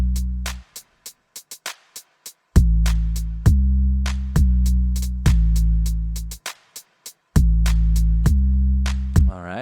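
A deep pitched 808 bass is layered under a punchy kick. Short kick hits alternate with long booming 808 notes that decay slowly, in a steady hip-hop pattern with no voices.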